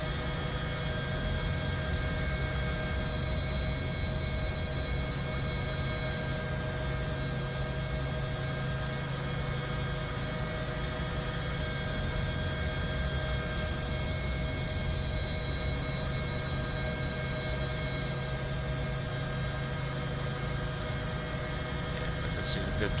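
A helicopter flying in the X-Plane 11 simulator gives off a steady, continuous rotor and engine drone with constant whine tones, loud and unbroken throughout with no talk.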